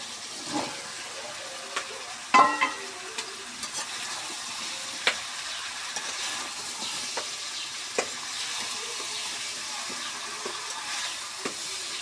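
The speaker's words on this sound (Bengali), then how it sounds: "এখন মিষ্টি লাউর সঙ্গে দিয়ে আবার কষাবো" Beef and sweet pumpkin sautéed in oil in a pan, a soft continuous sizzle with scattered spatula scrapes and knocks, a cluster of louder clatters early on.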